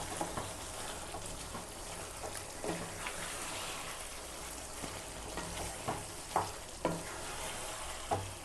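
Spinach is stirred into chicken curry in a pan, giving a low steady sizzle with occasional scraping and soft clatter from the spoon, fairly quiet and without voices.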